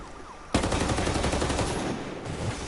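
ACR rifle firing in Ghost Recon, a rapid sustained burst of automatic shots in an even rattling rhythm, loud and close, ending abruptly.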